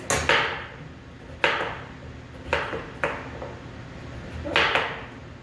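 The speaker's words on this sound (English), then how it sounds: "let's show you how to cut your squash. You're going to want to cut it in equal slices." A knife slices through delicata squash into equal rings, giving four or five separate crisp chops on a cutting board, each a sharp close thud spaced roughly a second apart.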